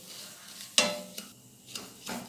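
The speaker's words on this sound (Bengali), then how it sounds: "এটা আমি ভালো করে নেড়ে চেড়ে ভেজে নিচ্ছি" Broken laccha semai vermicelli fried in a pan is turned with a spatula: a few sharp, close scrapes and shuffles over a faint, quiet sizzle, with no voices.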